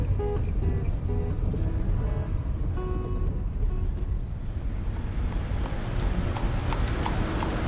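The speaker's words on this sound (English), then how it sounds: "The traffic waited while a horse-drawn trolley trotted by." Steady clip-clop of the hooves of a horse-drawn trolley trotting past at a brisk, even rhythm, fairly close, with a low rumble of waiting traffic and wind underneath.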